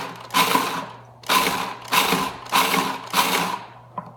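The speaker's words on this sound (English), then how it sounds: "you want to grind up the Chex pretty nicely" Chex cereal and butter ground into a crust in a food processor, running in five short, loud bursts with brief pauses between each pulse.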